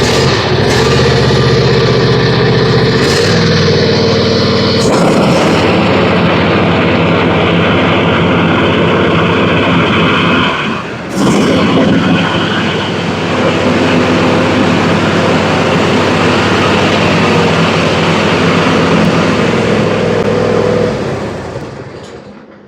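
John Deere Z355 riding mower engine running loud and steady with the cutting deck engaged, close up in a shop, a brief dip near the middle before it settles, then cutting off at the end.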